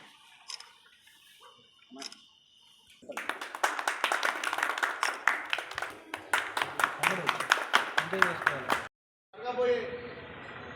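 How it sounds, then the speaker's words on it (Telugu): Audience clapping at a Congress party meeting in a village, a brief spattering of claps at first, then a sustained round of close, dense applause for several seconds, a short break, and a final burst of claps. "చప్పట్లు కొట్టండి"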